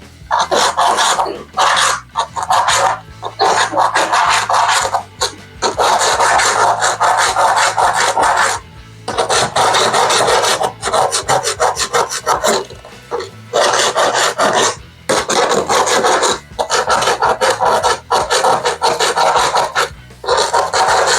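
A hand tool scrapes loose grout out of shower tile joints in loud, close, rasping strokes, repeated in long bursts with short pauses between them.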